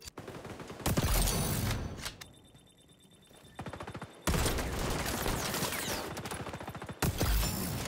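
Gunfire in the shooter game XDefiant: loud bursts of rapid automatic shots in several clusters, broken by a brief quieter gap with mechanical clicks, all close and punchy.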